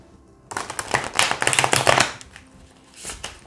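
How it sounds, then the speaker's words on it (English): Silky tarot cards are riffled and shuffled close up, a dense burst of flapping, fluttering card noise lasting over a second, followed by a smaller shuffle, with no talking. "These cards are so silky, you can't shuffle properly with them."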